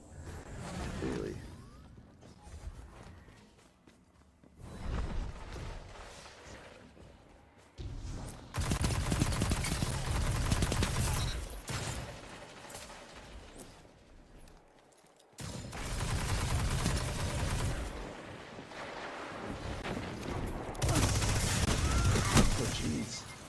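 Gunfire in a Destiny 2 Crucible match with a Hardlight weapon, coming in dense bursts of rapid shots separated by quieter lulls, with voices talking under and between the volleys.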